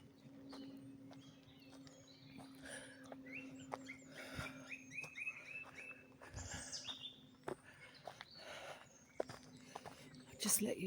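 Footsteps walking through woodland, soft and irregular, with birdsong chirping around them and a person speaking at times.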